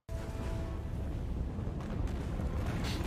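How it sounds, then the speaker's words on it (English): An explosion in Guardians of the Galaxy Vol. 3 comes as a dense, steady low roar and rumble that fills the whole clip, with no talk over it. "Maybe that explosion is more powerful than I thought."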